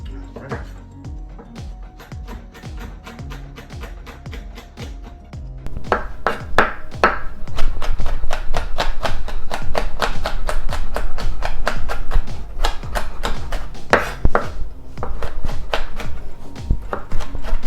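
A knife chops jalapeños on a cutting board for pico de gallo, sharp rapid taps in a steady rhythm, sparse at first and then fast and continuous, close and fairly loud.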